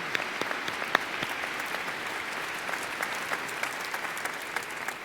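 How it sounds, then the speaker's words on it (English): Steady applause from an audience at a university commencement ceremony honoring a choir, dense and continuous clapping at moderate distance with occasional sharper claps, no voices over it. "Let's give them another round of applause."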